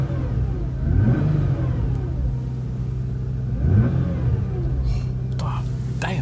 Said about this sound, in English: It's so well insulated in this car, and you can still hear the Fiesta.